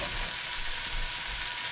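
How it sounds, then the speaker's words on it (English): Yellowtail snapper fillets in olive oil sear in a cast iron pan, giving a steady, fairly quiet hiss with no voices. "So I'm gonna sear these"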